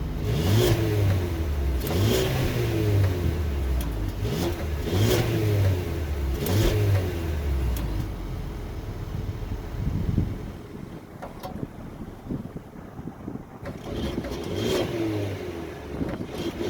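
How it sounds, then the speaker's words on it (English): A 2021 Mercedes-Benz CLA 250 4Matic engine revs repeatedly through its exhaust in rising and falling bursts, loud and close, with wind buffeting the microphone throughout. "we're gonna check out the exhaust next and see how it sounds in comfort as well as in sport."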